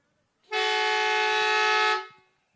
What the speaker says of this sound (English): Foghorn sends us away.